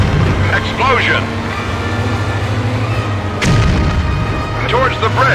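A sudden blast goes off partway through, a loud explosion during a car stunt in the PS2 game Stuntman (2002), sitting on top of a continuous engine hum with warbling high squeals before and after.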